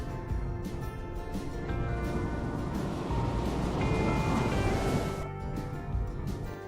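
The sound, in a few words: ocean waves with pirates sound effect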